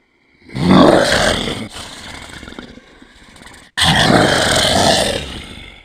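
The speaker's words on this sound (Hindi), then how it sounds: "मुझे किसी जानवर के गुर्राने की आवाज़ सुनाई दी" Two loud, rasping animal growls used as a horror sound effect, the first swelling and fading over a couple of seconds, then a sudden second snarl after a brief silence.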